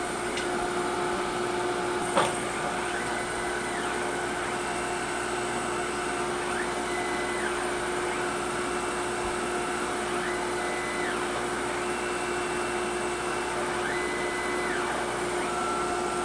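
A Tormach surface grinder grinds 4140 steel flat, giving a steady whine and hum with a faint, regular back-and-forth pattern as the table moves, continuous and close with no talking.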